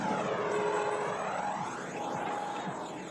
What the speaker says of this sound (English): Never seen a jet without a chemtrail though.